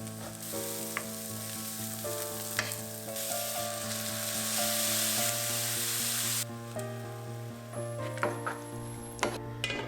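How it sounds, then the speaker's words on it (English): Onions and grated tomatoes sauté in a pan with a strong, continuous sizzle. Occasional stirring clicks and a low background hum sit under it, and the frying swells before briefly easing near the end. "in the same pan, I'm gonna saute the onions and grate the tomatoes, and going to add them over the onions"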